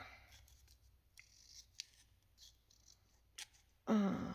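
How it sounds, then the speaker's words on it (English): Scissors cut paper while decorating altered-book journal page pockets: sparse, faint snips scattered through a quiet room, ending with one louder, closer cut. "So we're just going to cut."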